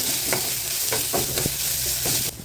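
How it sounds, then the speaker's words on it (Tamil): Ginger garlic paste sautés in a pan for masala idli, a loud steady sizzle with rhythmic spatula scrapes and taps every half second or so, cutting off abruptly at the end. "இதில் இது போட்டு கொஞ்சம் வதக்கி விட்டுங்க இஞ்சி பூண்டு பேஸ்ட்டு"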